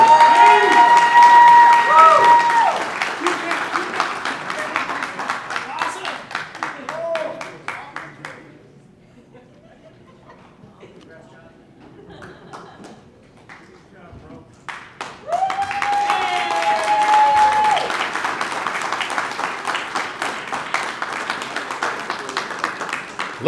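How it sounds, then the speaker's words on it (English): Audience at the 2025 California Wrestling Hall of Fame Lifetime Service Awards clapping for an honoree, loud applause at first that fades into a quieter stretch, then surges back strongly and carries on to the end with some voices among it. "One more round of applause for Mr. John Talbot"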